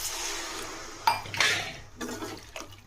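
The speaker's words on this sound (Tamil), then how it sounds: "இப்போ தண்ணி ஊற்றிடலாம் ஃப்ரெண்ட்ஸ்." Water poured into a pan of tomato curry with turmeric and sautéed onions, a few quick splashes and a short liquid rush up close, then quieter sloshing as it settles.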